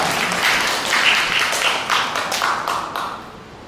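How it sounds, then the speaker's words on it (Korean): Guests applaud during a wedding ceremony in the Aluce Hall of a Gwangju wedding venue, with steady, dense clapping that swells and then gradually tapers off, with no voices over it. "다시 한번 박수 부탁드리겠습니다."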